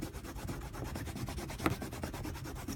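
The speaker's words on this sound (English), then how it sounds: "Bone fold, burnish," A bone folder burnishes a layered craft card with fast, rhythmic rubbing strokes. The scraping is close and steady, roughly ten strokes a second, and carries a faint tap partway through.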